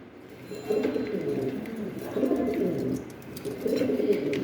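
Pigeons of the Spanish Gorgorio or Andalusian Giant Huma breed coo in three drawn-out, throaty phrases, close by, with faint chirps and rustling behind.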